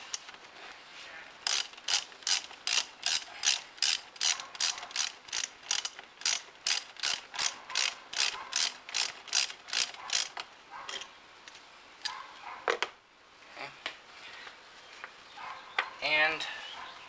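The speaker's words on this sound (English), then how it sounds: "for this, you can either use a flathead or a 10 millimeter socket. I prefer the socket." A ratchet with a 10 millimeter socket clicks in a fast, even run of sharp pawl ticks close by while an air filter pipe is loosened, then slows to a few scattered clicks and handling noises.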